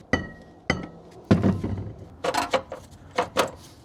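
Sheet metal from cars in a salvage yard being handled, giving a close, irregular run of hollow thunks, clanks and light metallic clinks with short gaps between them.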